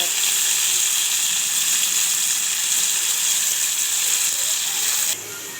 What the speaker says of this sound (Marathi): असं मस्त फ्राय करून घ्यायचं तेलामध्ये